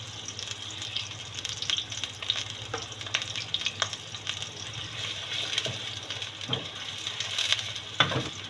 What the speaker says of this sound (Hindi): ऑयल गर्म हो गया तो प्याज इसमें हम डाल देते हैं।